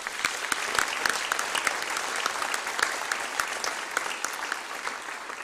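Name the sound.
audience applause at an honor society induction ceremony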